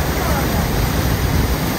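A waterfall pours with a loud, steady broadband roar at close range, filling the short clip without break where people are bathing beneath it.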